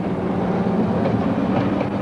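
An old Tasmanian train runs on rails, a loud, close, continuous low rumble with steady rolling rattle of wheels and cars, no voices.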